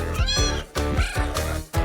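A tiny kitten meows loudly and repeatedly up close, about four insistent rising-and-falling cries in quick succession with no other sounds.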